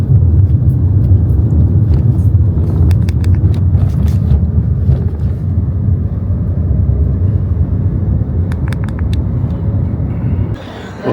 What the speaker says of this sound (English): We're gonna take the taxi now.